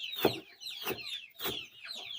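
Domestic chickens waiting to be fed cluck in three close, soft bursts spaced about half a second apart, clear and without voices.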